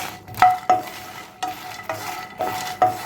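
Dried red chillies dry-roast in a pan for moringa leaf podi, stirred with a utensil that scrapes and clinks against the metal in a few sharp, close strokes over a faint sizzle.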